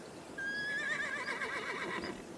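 A horse whinnies loudly and close by for about two seconds, a high rising call that wavers and falls, amid soldiers watering horses at a military camp.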